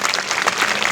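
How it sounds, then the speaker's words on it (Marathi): Audience applause welcoming a guest at a live Marathi comedy performance: a dense, steady burst of many hands clapping at once, loud and close, filling the whole second without a break. "टाळ्या वाजून स्वागत करायचं"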